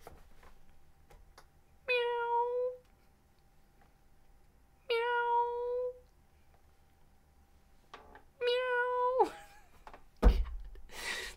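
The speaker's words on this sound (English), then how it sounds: "we got all of Danelle's cats going crazy right now" Several house cats meow loudly and plaintively indoors, three long drawn-out wailing meows spaced a few seconds apart, the last one rising and bending, followed by a brief thump, with no talk over them.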